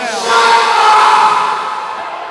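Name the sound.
wrestling crowd jeering a wrestler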